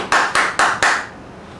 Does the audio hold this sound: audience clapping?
yes